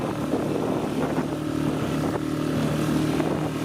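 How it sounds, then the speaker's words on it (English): Riding over a roughly two-foot tugboat wake on open water: a steady, droning engine hum with a constant wash of water and wind noise, close and continuous, no talk. "Tugboat wake."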